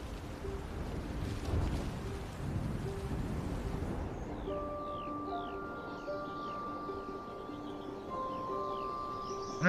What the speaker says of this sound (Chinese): 巢穴外，雨水给周围的山野带来了新的生机。